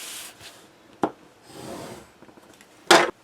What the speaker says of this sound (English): go along the edge of the chipboard, and I'm scoring the edge